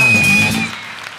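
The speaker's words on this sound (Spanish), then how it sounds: "Un fort aplaudiment per a Minimac!" An audience at a televised stage show claps in a brief burst of applause that fades out within about a second.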